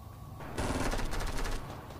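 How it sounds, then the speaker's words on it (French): Rapid automatic gunfire in a video game bursts in after a brief quiet lead-in, a dense rattling volley of shots that stays loud for over a second before tapering off. "Moi je vais aller où ça flingue?"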